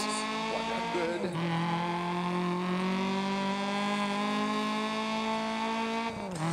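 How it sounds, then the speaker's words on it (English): Rally car engine from the video game DiRT, a loud steady high-revving drone that holds its pitch with brief dips at gear changes near the start and end, running continuously. "the engine sounds is absolutely amazing."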